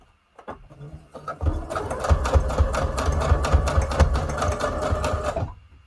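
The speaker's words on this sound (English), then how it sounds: "It's gonna be a nice long straight stitch" A sewing machine runs a long straight stitch on junk journal tags, its rapid steady needle chatter loud and close after a few brief starting taps, running continuously for about four seconds before stopping.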